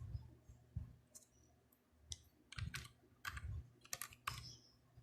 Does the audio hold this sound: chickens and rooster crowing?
no